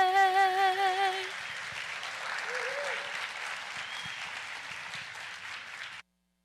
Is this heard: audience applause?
yes